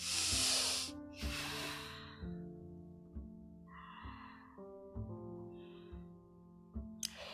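Slow, deep yoga breaths taken during a yin yoga session, a few long airy inhales and exhales drawn through the nose over quiet sustained background music.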